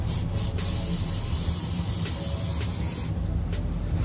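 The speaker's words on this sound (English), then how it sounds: "Let me spray the other one." Spray bottle misting bug spray onto a snake plant, a steady close hiss running through the whole clip with a few short bursts of spray.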